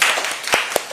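Children give a short burst of clapping during a live career talk with a voice actor, a few scattered, sharp claps close by over a soft room background.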